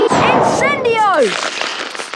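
A Harry Potter and the Chamber of Secrets game Incendio fire spell erupts as a bright crackling, whooshing burst with descending whistling tones, loud and close, then fades into a softer crackle.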